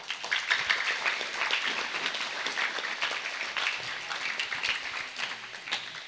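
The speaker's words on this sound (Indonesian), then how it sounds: "Tepuk tangan." An audience at a Quran recitation ceremony in an Islamic boarding school gives sustained, fairly even applause from many hands, steady throughout.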